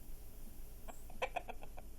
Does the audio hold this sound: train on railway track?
no